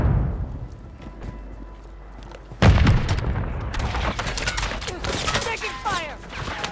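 Call of Duty gunfire breaks out suddenly after a quiet stretch, a loud close volley followed by sustained crackling shots and bursts, with faint radio-style voices mixed in.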